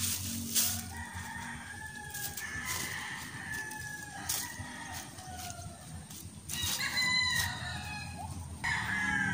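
Roosters crow repeatedly and hens cluck around a backyard garden plot in the province, several calls overlapping at moderate distance amid quiet outdoor background.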